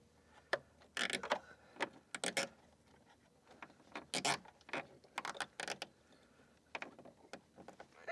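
Zip ties worked onto a BMW E38 740 interior door panel, producing faint, sporadic plastic clicks, ratcheting ticks and rustles in short bursts against a quiet background.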